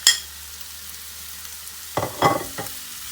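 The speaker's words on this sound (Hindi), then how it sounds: "अब इसके अंदर ये चिकन ऐड कर देंगे और 1 से 2 मिनट के लिए भूनेंगे" Chicken pieces fry in a pan while being stirred, giving a soft steady sizzle with a few louder bursts of scraping and sizzling near the end.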